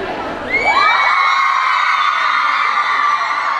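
A crowd of young fans at the ItaTube 2015 event breaks into loud, sustained high-pitched screaming and cheering that swells suddenly after a brief quieter moment and keeps going steadily.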